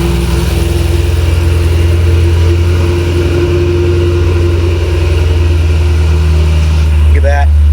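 Supercharged Cadillac CT5-V Blackwing V8 fitted with a Magnuson 2650 supercharger runs steadily just after startup, a loud, close, continuous engine drone with a brief rev near the end.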